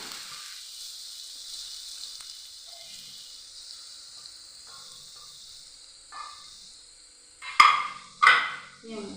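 Chilies and spice paste fry in a pan with a faint, steady sizzle, and a couple of louder scraping stirs come near the end.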